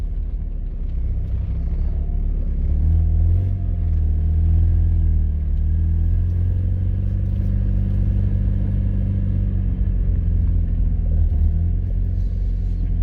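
A freshly rebuilt car engine rumbles loudly and continuously from close by through a damaged exhaust, its deep drone swelling and easing slightly as it drives along.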